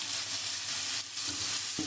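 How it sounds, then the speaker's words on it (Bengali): Mutton being sautéed in a pan, a dense, continuous sizzle of frying, with the meat stirred and turned, steady and close. "আমি এবারে মাংসটা আমি খুব ভালো করে কষিয়ে নেব।"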